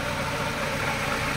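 A restarted Honda City Type Z engine, with an oil leak at the valve cover gasket and a worn power steering pump bearing, idles with a steady, even hum close by, and no one speaks.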